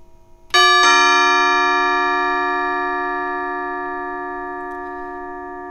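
A 1950 Deagan Canto Chimes electric bell carillon sounds a bright chime twice in quick succession, then a long sustained ringing tone slowly fades away, clear and close with no talk.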